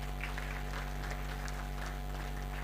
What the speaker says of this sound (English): Can we give these people another round of applause?